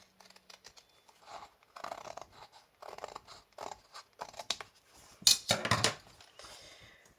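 Scissors trimming paper for a handmade desk calendar, a series of close, crisp snips and rustles in uneven bursts, with one louder crunchy cut near the end.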